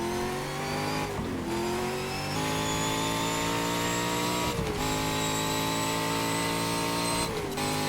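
A race car engine in the racing game GTR2 drones at high revs, loud and sustained, with three quick dips and climbs as the driver shifts gears, no voices.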